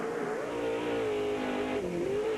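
Pro 4 off-road race trucks with manual transmissions roar around the Firebird Raceway track in Chandler, Arizona, their engines loud and revving steadily the whole time, with pitch rising and falling as they corner.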